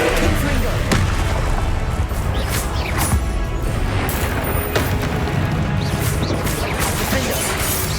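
Confringo fire spell explosions in Hogwarts Legacy, a video game: repeated loud crashing blasts and sharp smashes amid a dense, busy combat din, with thuds scattered across several seconds and voices mixed in.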